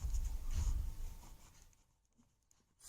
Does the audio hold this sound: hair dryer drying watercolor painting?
no